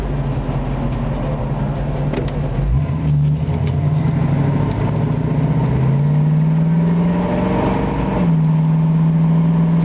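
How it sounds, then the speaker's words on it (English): A 1965 Ford Mustang convertible's V8 engine with dual exhaust idles with a deep, throaty burble, then revs up and settles back, steady and close with no talking. "It's got a nice throaty sound to the V8, a classic Mustang muscle car sound"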